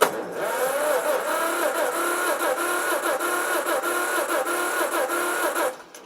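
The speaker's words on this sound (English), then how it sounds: "It's trying really hard to start" A John Deere MC crawler engine cranks with the ignition on and a little choke, a steady rapid churning rhythm for several seconds without catching, then stopping; close and loud, no talk.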